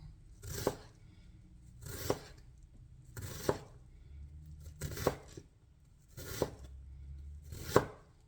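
Onions chopped with a knife on a board, six evenly spaced heavy chopping thuds with quiet gaps between, close and clear.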